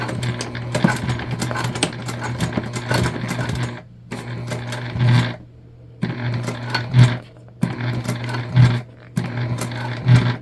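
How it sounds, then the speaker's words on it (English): A sewing machine topstitches a jelly vinyl pouch in several short, loud bursts of rapid stitching separated by brief pauses, with thuds and clicks as the bulky layers are worked through. "if you go ahead and top stitch all the way to the end, it's going to look a lot better"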